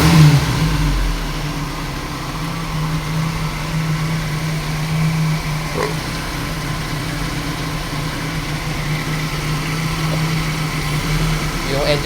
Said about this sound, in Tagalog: Yung engine response niya guys